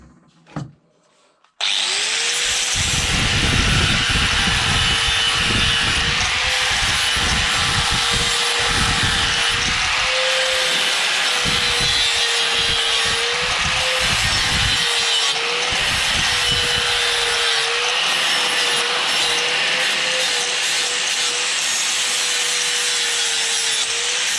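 A power sander fitted with an 80 grit disc works the surface of a Stiga table. After a short quiet start it runs as a loud, continuous whine with rough, uneven grinding rumbles as it moves across the wood.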